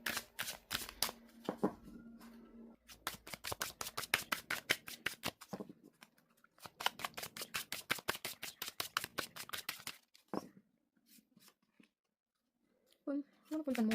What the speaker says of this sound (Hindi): Then let me pull few cards